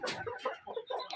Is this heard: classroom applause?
no